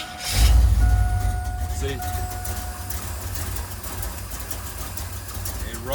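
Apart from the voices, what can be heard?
V8 Chevy S10 truck engine starting and running rough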